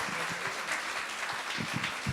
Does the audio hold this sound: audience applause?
yes